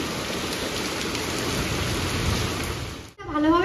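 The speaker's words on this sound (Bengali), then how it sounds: "দেখুন কি সুন্দর বৃষ্টি হচ্ছে।" Heavy rain pours down in a dense, even hiss for about three seconds, loud and near, then breaks off abruptly into a brief tonal, voice-like sound.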